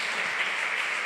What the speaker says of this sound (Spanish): Ahora sí aplauda fuerte a Cristo.